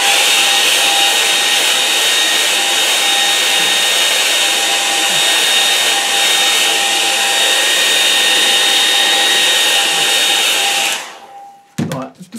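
Hair dryer drying a watercolour painting of an English moor, blowing as a loud, steady, close whoosh with a constant whine for about eleven seconds before switching off with a few clunks.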